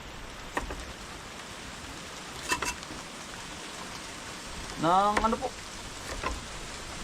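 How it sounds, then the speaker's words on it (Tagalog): Fine, steady rain falls during the heavy rainy season, a soft continuous hiss under a few brief voices and some light clatter. "Masyadong yung ulan ay pino."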